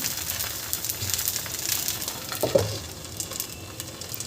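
A thin batter of fresh green garlic leaves cooks on a very hot griddle, hissing with a constant close sizzle plus faint crackles and one soft scrape midway, and no one speaking.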